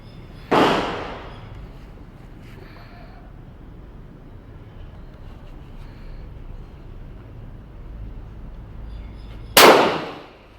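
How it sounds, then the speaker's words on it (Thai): A pistol fires R.I.P. hollow-point ammunition by S.I.P. Tactical at a test range: two sharp, loud shots close by, about nine seconds apart, with only faint background noise between them. "ต่อไปยิงดูการยิงแล้วก็คัดปลอกกระสุน"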